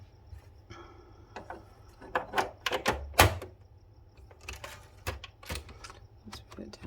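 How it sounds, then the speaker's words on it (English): A Citizen X3 typewriter types in an irregular run of sharp key strikes and clacks, some louder hits clustered together, close and otherwise quiet. "So let's try typing."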